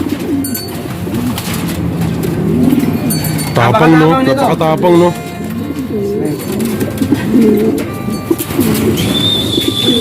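Racing pigeons coo in soft, repeated low bursts through most of the stretch, with people talking close by over the birds and a few faint clinks mixed in.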